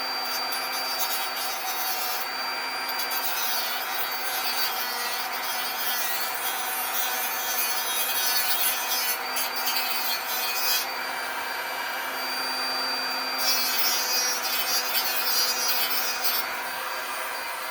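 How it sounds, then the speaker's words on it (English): A Dremel rotary tool fitted with a small saw blade cuts squarely through a Rolls windscreen washer pump part, giving a steady, close, continuous high buzzing rasp with no pauses and no talking. "I'm going to take a saw blade on a Dremel, and I'm going to take and I'm going to cut that off real square."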